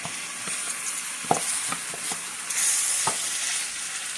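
Shrimp sizzling in butter and garlic in a pan over medium-low heat, a steady soft frying hiss with occasional sharp crackles and stirring clinks, moderately quiet and close.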